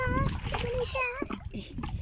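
Children bathing in deep water at an outdoor spot in Oman, splashing close by in short bursts, heavily mixed with their high, excited voices talking and calling out.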